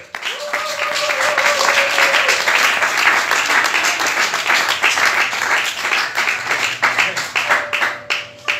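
A church congregation bursts into sustained applause for several seconds, dense and loud, with cheering voices mixed in and the clapping thinning toward the end.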